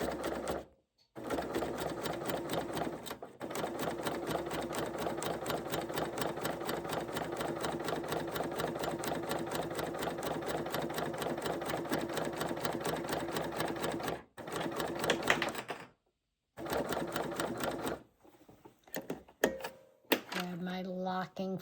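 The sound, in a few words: sewing machine chain-stitching a long binding edge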